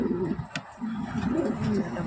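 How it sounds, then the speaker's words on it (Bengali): A female pigeon cooing in a home loft while heavy rain falls outside; soft, low, rolling coos repeat steadily at close range, with a brief sharper sound partway through. "এখানে একটা মাদি পায়রা আছে"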